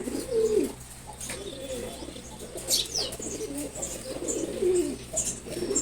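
A pair of pigeons, a red male and an uncommonly coloured female, give soft low coos in a few short bursts, fairly close, with a brief chirp and quiet background noise.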